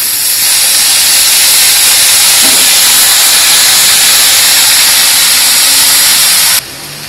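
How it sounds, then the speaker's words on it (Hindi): Rice is poured into a pan of masala vegetables, producing a loud, steady sizzling hiss that holds for about six seconds before dropping off sharply. "और अब हमने चावल डालना शुरू किया इसमें।"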